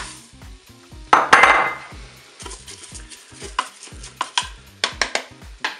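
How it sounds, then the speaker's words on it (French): Uncooked rice poured into a Cookeo multicooker pot over browned chorizo and vegetables, a brief rattling pour followed by sizzling and scraping stirs against the pot. "Maintenant, je vais ajouter mon riz."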